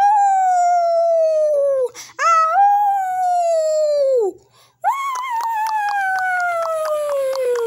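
Voice imitating a wolf howling in a cartoon talent show, three long sliding howls in a row, each rising and then falling away, loud and close with short gaps between them.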